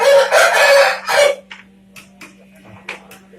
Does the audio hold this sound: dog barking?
no